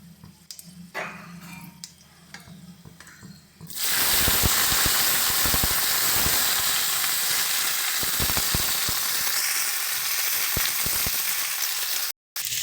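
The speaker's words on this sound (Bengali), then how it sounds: "তো চলো এটা একটু সুন্দর মতন করে ভাজা হোক" Soaked potatoes and flat beans go into hot oil with panch phoron, and a quiet kitchen gives way to a sudden loud, sustained frying hiss with crackles and occasional stirring knocks, close up with no talking.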